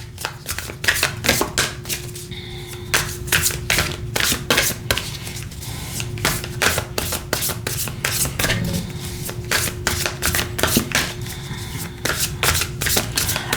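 Star Codes Astro Oracle cards being shuffled by hand, a rapid run of crisp riffling slaps and flutters in irregular bursts with brief pauses, close and loud, with a faint steady hum underneath and no talk.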